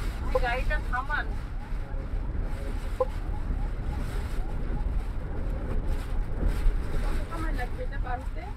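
Strong storm wind buffets a double-decker bus crossing the Padma Bridge, a dense, steady roar of gusting air and rumble throughout, with faint voices of passengers talking underneath.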